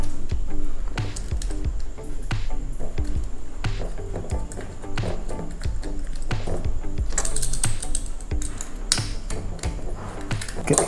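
A screwdriver fastens a heat sink onto an induction cooker circuit board, making rapid, close clicking and ratcheting taps in irregular bursts.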